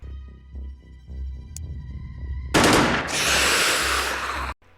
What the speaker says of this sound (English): Second we have the assault rifle.